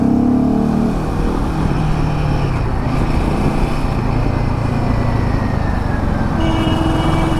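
A Himalayan 450 or Scrambler 400X adventure motorcycle engine hums steadily in fourth gear while riding, a loud continuous drone with wind rush throughout.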